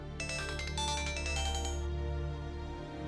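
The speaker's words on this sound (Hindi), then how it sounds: "ईमान का फोन" A mobile phone ringtone plays a bright electronic melody, loud and close, looping briefly over a low background hum in a drama scene.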